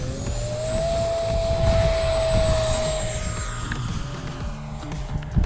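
A Freewing Vulcan RC model jet flies past with a loud, steady electric ducted-fan whine that holds a high pitch, then drops in tone as it moves away, with faint wind noise underneath.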